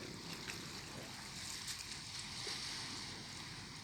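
Large waves rolling in at Koh Loy, Sriracha, heard as a steady, broad wash of surf with wind across the whole moment, fairly faint and even with no clear individual breaks.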